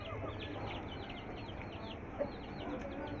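A hen clucking as she is let out of her coop beside newly hatched chicks, soft repeated clucks over a steady background hum, fairly close with a brief louder note midway.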